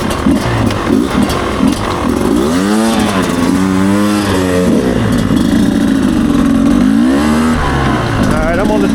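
A Beta 250RR dirt bike engine revs up and down repeatedly on a demo ride, rising and falling pitch sweeps over a rough, continuous idle, close and loud, with a voice speaking over it.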